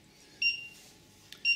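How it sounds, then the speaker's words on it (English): An HG Security GSM alarm control panel, powered up with no SIM card fitted, gives two short, clear electronic beeps about a second apart in a quiet room. "It's beeping because it's looking for a SIM card"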